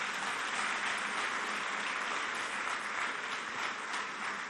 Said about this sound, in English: another round of applause for the EFCC chairman, Mr. Ola Olukoide